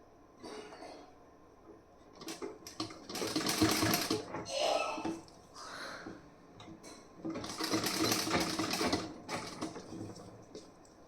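A sewing machine stitches piping onto a piece-style blouse in two long bursts of steady whirring, close and fairly loud, with short pauses and handling noise between runs.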